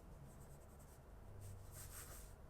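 Sailor Pro Gear King Size fountain pen with a 21 karat gold nib scratching softly across paper, faint close strokes for a couple of seconds with no talking.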